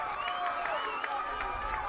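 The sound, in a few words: baseball crowd cheering after an out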